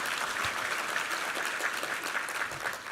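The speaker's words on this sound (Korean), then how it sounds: "우리 하나님께 감사와 영광의 박수 올려드리겠습니다." A church congregation applauding during a Korean Sunday worship service, even and continuous clapping at moderate volume throughout.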